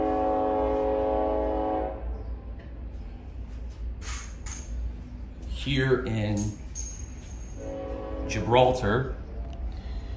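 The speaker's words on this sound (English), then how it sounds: "if you guys can hear that train, I apologize. It's not very far." Train passing on the other side of a nearby road, with a horn sounding a steady tone at the start and a low rumble underneath throughout, under someone talking.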